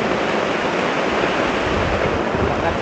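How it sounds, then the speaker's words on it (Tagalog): Strong typhoon wind roars in a steady broadband rush, loud and unbroken, buffeting the microphone with no talking. "Lakas yung ihip ng hangin."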